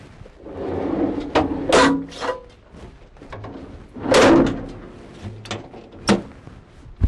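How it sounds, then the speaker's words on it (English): A series of clicks, clunks and scraping knocks from the battery box door latches of an MD5150 track drill rig being worked open, with short quiet gaps between them. "you undo the door, pull out the latches, and you can change your batteries from there."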